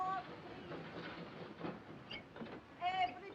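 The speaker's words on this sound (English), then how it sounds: "The train is leaving." A steam-era train pulls out of a station in a 1940 wartime film, wheels clattering and hissing with short whistle tones, under faint background voices.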